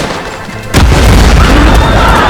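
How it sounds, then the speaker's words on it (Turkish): A sudden deep boom bursts in after a quieter stretch, followed by a loud, rumbling roar that sustains to the end, like a video game explosion scene played on a Casper Excalibur G870 laptop with an RTX 4060. "Evet şu an bir patlama sahnesi daha olacak."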